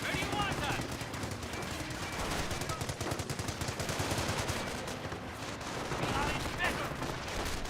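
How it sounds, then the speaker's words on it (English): MG42 machine gun fire in the World War II strategy game Company of Heroes, rapid distant bursts layered with battlefield shots and explosions, under a commentator's steady talk. "MG42 needs to start hitting that rifle squad."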